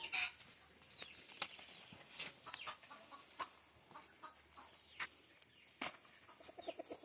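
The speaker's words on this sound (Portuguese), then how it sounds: "Vai jogar para as galinhas? Oh. Elas estão aqui" Chickens clucking and crowing on a small organic farm plot, scattered short calls near and far with faint insect buzz and no talking.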